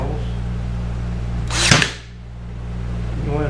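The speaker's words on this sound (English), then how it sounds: "now I'm just going to pin this on by 1 1/4 inch brad nails" A single sharp pneumatic snap as a brad nailer drives a 1 1/4 inch brad into barnwood, a short burst over a constant low hum of background noise.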